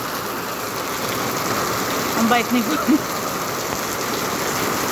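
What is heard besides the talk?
heavy rain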